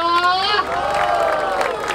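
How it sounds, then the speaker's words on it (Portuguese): Crowd cheering and applauding at a hip hop rap battle during a tour stage, a loud, dense roar of voices and claps with shouting that stays steady for a couple of seconds. "Palmas pra essa batalha!"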